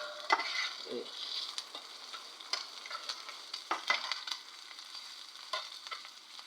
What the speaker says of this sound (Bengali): এই গন্ধটা না যাওয়া পর্যন্ত আপনি একটু হালকা ভেজে নিতে হবে